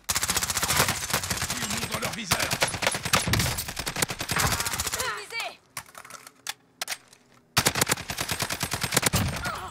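Dense automatic gunfire in a Warzone firefight, rapid rattling bursts that break off into a quieter gap before another volley starts. Faint talk sits underneath.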